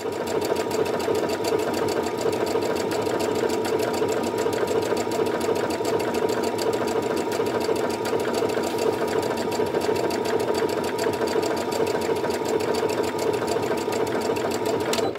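A domestic sewing machine stitches an open hem with ordinary cotton thread, a steady, fast, even mechanical whir with rapid ticking that runs close and unbroken for the whole stretch, with no talk over it.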